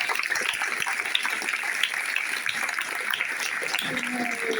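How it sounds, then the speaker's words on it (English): An audience at an anti-fascist assembly in Tower Hamlets claps steadily, a dense, continuous wash of hand claps that holds for several seconds without dropping off. "So I want everyone to give a big round of applause to Safia Jack."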